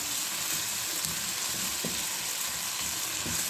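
Capsicum and cabbage fry gently over a low flame, giving a steady, even sizzle with soft crackles and an occasional faint clink, with no voices.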